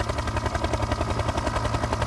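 Loud, close helicopter rotor thumping beats in a rapid, even rhythm over a broad engine roar, continuous throughout, in a documentary about Greenpeace.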